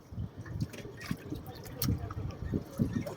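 Water seeping through a gap and dripping, soft irregular drips and trickling splashes, quiet and close, with no talk over them.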